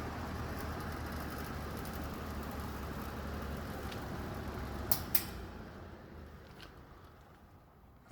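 An old three-bladed Eskimo box fan running on low speed produces a quieter, steady airy hum with a couple of brief clicks near the end as it settles.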